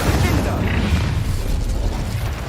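An Incendio fire spell in the video game Hogwarts Legacy erupts as a loud, continuous roaring whoosh of flame. It fills the whole moment with dense rumbling crackle and no pause.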